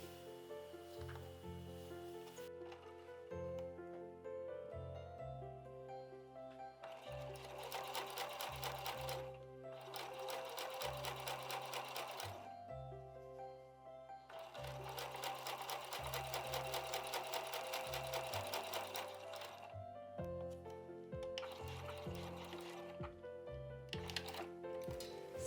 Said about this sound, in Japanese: そしたら残りのピースをここ縫いますね。